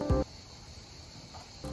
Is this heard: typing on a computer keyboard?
no